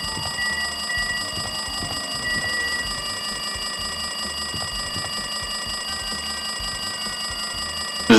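Electronic ringing from a phone in DanganRonpa 2 Goodbye Despair, a sustained, even trill held for several seconds over quiet game ambience, ending with a sudden louder blip.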